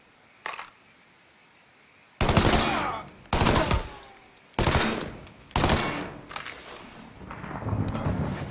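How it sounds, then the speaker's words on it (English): Loud shotgun blasts in the Mafia 3 video game: a faint early shot, then four heavy booming shots roughly a second apart, each with a long rumbling tail, followed by further echoing fire. "It's shotgun time!"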